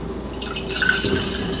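Ginger juice trickles and drips softly into a glass mason jar, close by, a gentle pouring sound lasting about a second.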